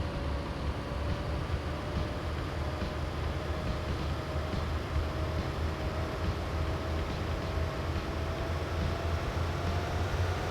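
Car engine in the rally-style driving game My Winter Car roaring at steady revs, a constant droning rumble with a whining tone, moderately loud and unbroken with no talk.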